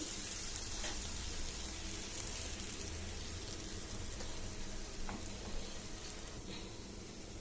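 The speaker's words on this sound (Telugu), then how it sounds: "మనము కట్ చేసి పెట్టుకున్న బన్ను తీసుకొని ఇలా కాల్చుకోవాలి" A halved pav bun toasting in melted butter on a hot pan gives a steady, close sizzle that crackles evenly throughout, with no voices over it.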